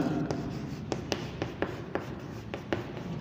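Quick scratchy strokes of a pen or marker writing on a board during a computer class, a steady series of short taps and scrapes over a faint hiss, fairly close.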